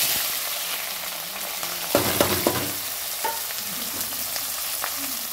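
Onion and whole spices such as star anise and bay leaf fry for chicken curry, a steady close sizzle with a few sharp stirring clicks and scrapes of the utensil against the pan.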